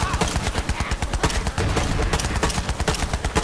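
Rapid, loud gunfire from a sniper rifle in the video game Borderlands 3, a dense run of sharp shots in quick succession filling the whole stretch.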